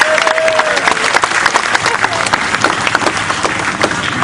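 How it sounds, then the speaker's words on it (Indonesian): Loud, close audience applause at a community gathering, dense continuous clapping from many people with crowd voices underneath, steady throughout. "Tepuk tangan semuanya untuk Mas Chandra."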